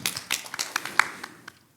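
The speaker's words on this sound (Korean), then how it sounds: "우리 이동원 교수님 큰 박수 부탁드립니다." Applause for a professor at a Korean policy debate forum, a short scattered burst of claps from a small audience that fades out within two seconds, with no talk over it.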